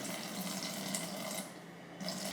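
Water runs from a tap into protein pancake batter: a soft, steady trickle and splash, close and fairly quiet, with no talking.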